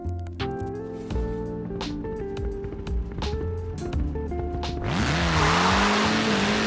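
Mini Cooper rally car in Forza Horizon 4, engine droning and revving through gear changes, then a loud burst of gravel spray and tire skid as it slides near the end; no talking.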